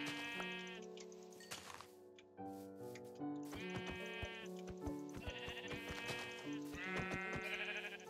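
Minecraft sheep bleat repeatedly in short wavering calls close up, mixed with clicking game sounds, with no talking.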